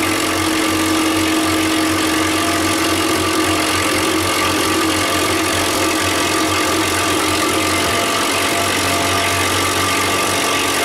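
A failing condenser fan motor runs loud and steady with a chuffing, labouring hum as it begins to stall, alone without any voices.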